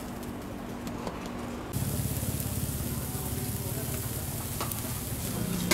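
Butter sizzling steadily on a rava paneer dosa as it fries on a hot griddle, a dense hiss that jumps louder partway through and then holds, with faint background clatter.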